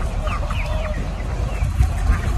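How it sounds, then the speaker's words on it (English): Chickens cluck and squawk at close range around a person being pecked, with bright short calls scattered over a steady, busy background. "The chickens are literally pecking me."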